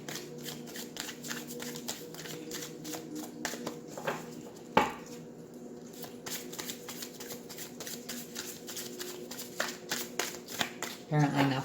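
Tarot cards are shuffled by hand in rapid, continuous riffling snaps close up, with a soft thump partway through and a voice speaking lightly under it.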